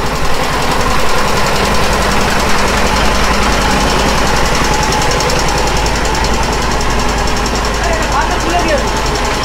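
A boat engine runs in the Sundarbans, a loud, steady, close mechanical drone with rapid knocking vibration that never lets up, with speech faintly mixed in.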